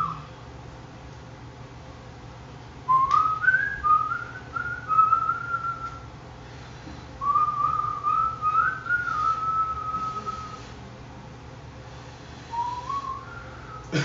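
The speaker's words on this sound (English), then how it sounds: "I learned how to whistle eating spicy stuff." A person whistles a wavering, warbling tune in short phrases with brief pauses, fairly close and clear against a low steady background hum.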